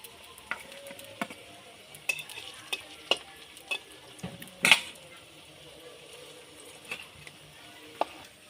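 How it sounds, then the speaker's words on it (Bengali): Banana and potato fritters frying in hot white oil in a pan, a quiet sizzle broken by sharp irregular clinks and scrapes of a spatula, close and soft. "তেলটা ভালোভাবে গরম হয়ে গেছে তেলের মধ্যে এক করে এই বড়াগুলো ভেজে নেব"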